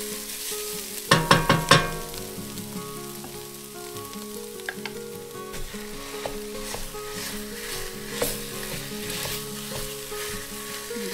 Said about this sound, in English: Going to brown the meat.